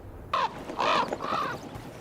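Three harsh caws from a crow in a fantasy video game, fairly close and loud, with short gaps between calls and no talking.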